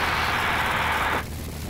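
Small propeller airplane engine at full power during a soft field takeoff, a loud steady roar that cuts sharply to a lower, quieter drone partway through.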